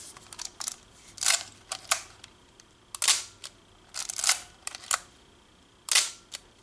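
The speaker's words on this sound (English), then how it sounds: "let's hear the Nichromat shutter." A Nikon Nikkormat film camera's mechanical shutter fires several times, each release a sharp, close snap with a short clattering tail, spaced irregularly among quieter handling clicks.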